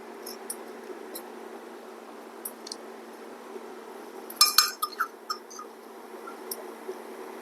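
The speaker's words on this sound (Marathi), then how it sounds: "मोहरी तडतडते आहे." Mustard seeds crackle in hot oil with sparse, sharp little pops, then a quick cluster of louder snaps before it settles back to scattered crackling.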